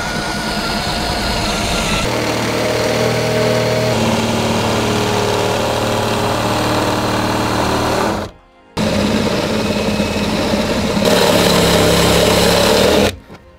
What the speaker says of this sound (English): Like the slowest drill bit in history.